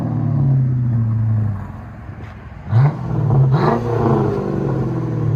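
A Chrysler 300 with a 5.7-litre HEMI V8 and aftermarket exhaust idles with a steady low rumble, then rises in two short revving bursts before settling back to a deep idle.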